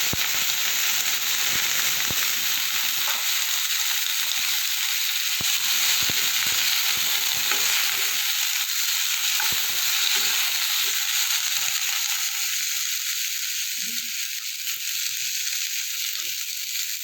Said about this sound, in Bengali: দিয়ে শিমটা হালকা করে একটু ভেজে দেবো